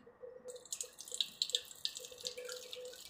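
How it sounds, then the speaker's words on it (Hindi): Water from chopped onion and tomato being strained out in a kitchen, soft close trickles and drips of liquid falling into a vessel, faint and alone. "इस तरह आपको पूरा पानी निकाल देना है।"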